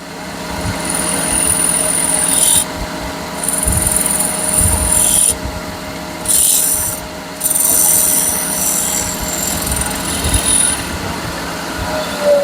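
A full gouge carves wood for a bourbon whiskey smoker. It makes close, loud rasping scrapes in several long strokes separated by short pauses.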